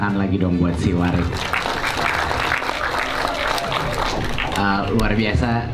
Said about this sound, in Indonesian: Tepuk tangan lagi dong buat si Warik.